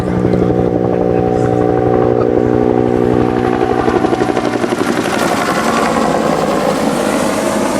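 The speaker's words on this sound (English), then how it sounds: "there's our gunship making a pass, looking for the downed pilot" A helicopter gunship makes a low pass over a Vietnam War reenactment at a fort festival, its rotor thudding in rapid pulses and a loud engine roar swelling as it goes by.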